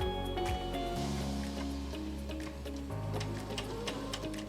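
A sewing machine runs steadily, stitching a quarter inch along a line on a quilt block, its motor hum and rapid needle ticking continuous and close with no talk.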